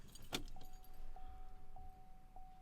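Keys jangle briefly as the ignition is turned off in a Vauxhall Insignia 2.0 CDTi during an EGR valve learn procedure, then a soft electronic chime repeats at steady intervals in an otherwise quiet cabin.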